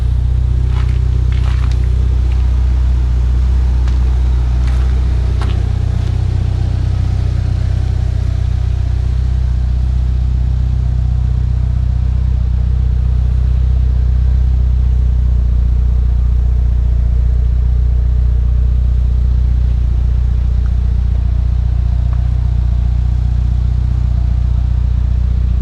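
A Mitsubishi Evolution 6 project car's engine runs with a loud, close, unbroken low drone for the full stretch, with a few light clicks and ticks early on and no talk.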